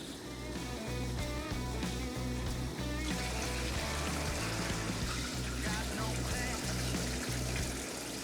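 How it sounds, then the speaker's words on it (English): Water pouring and trickling over beef tripe in a bowl to clean it beside a Santa Maria grill, a continuous close wet splashing with an outdoor hum underneath, no talking. "we're gonna put some water in the tripa"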